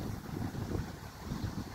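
Strong wind at sea during a fishing trip, a steady close buffeting rush on the microphone with low rumbling gusts, no voices.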